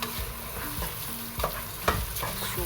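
Dry rice grains for chicken biryani scrape and rattle as they are roasted in a hot pan, a brief run of close, repeated scratching strokes.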